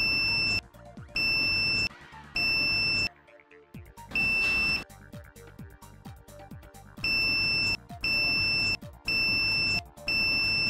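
A multimeter on continuity mode beeps while its probes touch the windings of a shorted car alternator, giving a series of sharp, steady high tones, each lasting about a second, separated by brief gaps and soft clicks of probe contact.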